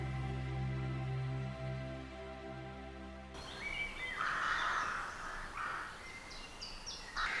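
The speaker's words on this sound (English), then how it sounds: "I hope you can hear me over the crows. The crows seem to be having some kind of territorial dispute." Crows calling back and forth in a territorial dispute outdoors, a burst of harsh repeated calls breaking in after a steady low hum and continuing loudly to the end.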